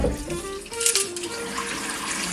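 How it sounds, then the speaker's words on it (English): Water from a saucepan of boiled oranges pours into a kitchen sink, a steady close gush and splash running for a couple of seconds with a brief brighter surge partway through. "Once the water is boiling, drain them in the sink."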